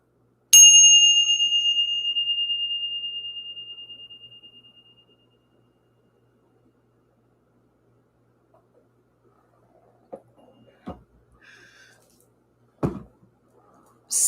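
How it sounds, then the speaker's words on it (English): A single bell is struck once, its clear ringing tone hanging and slowly fading over several seconds before silence, followed later by a few faint clicks and taps. "let's ring the bell"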